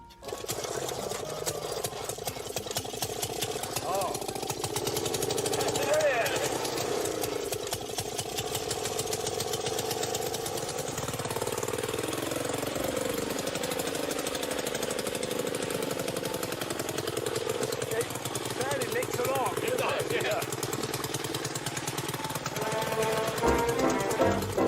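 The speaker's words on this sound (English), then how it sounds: "The arrival of motorized lawnmowers after the war" A motorized lawnmower engine runs steadily with a buzzing, rattling drone, loud and close throughout with no talk over it.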